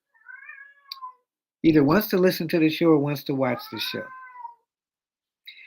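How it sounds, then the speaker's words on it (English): Someone talks while a cat meows briefly before and after his words, the cries fairly close and moderately loud. "So excuse the cat in the background."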